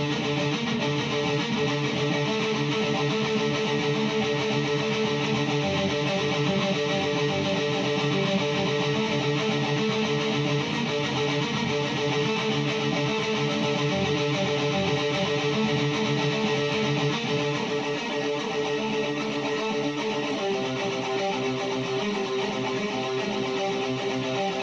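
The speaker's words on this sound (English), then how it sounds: "Still with the palm mutes, and then we make our power chord." Electric guitar plays a continuous palm-muted riff built on power chords with an augmented fifth, steady and dense for the whole stretch, alone with no talking.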